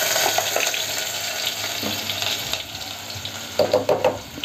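Garlic, curry leaves and onion frying in hot oil give a steady, moderately loud sizzle with scattered crackles and a few brief scraping stirs near the end.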